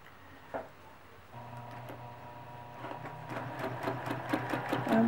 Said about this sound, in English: I'm just going to stitch along the inner circle, or the middle circle.